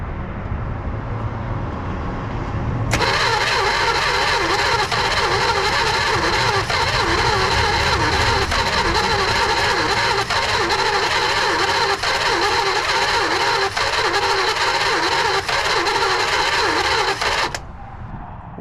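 A 1966 Dodge Dart engine, parked for 25 years, cranking on its starter: a loud, steady whirring grind with a faint pulsing rhythm that kicks in after a quiet start, runs for about fifteen seconds, then cuts off.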